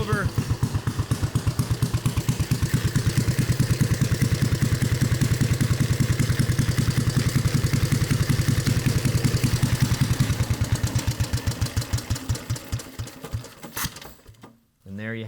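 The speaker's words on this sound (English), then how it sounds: "the one-of-a-kind 1921 100-year-old, as of today, Harley-Davidson SCA racer" A 1921 Harley-Davidson SCA racer motorcycle engine putts in a rapid, steady, close-up firing rhythm, then slows into uneven chuffs and cuts out near the end.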